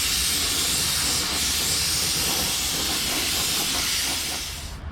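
A spray gun lays clear coat onto car bodywork, a steady broadband hiss of atomized paint and compressed air that runs unbroken and close for several seconds, tapering off at the very end.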